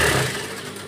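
Sewing machine motor whirring while stitching a fall onto a saree, a short continuous mechanical hum, close and fairly loud, fading slightly toward the end.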